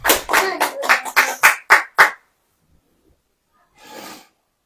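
A congregation claps in a burst of about eight sharp, rhythmic claps, then goes silent, followed by one short breathy noise.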